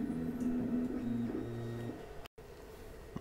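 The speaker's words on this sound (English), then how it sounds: "you can just click print and the machine will start printing" BEETHEFIRST 3D printer starting to print, giving faint motor whirs and stepped tones in short segments, followed by a brief cut and low steady hum.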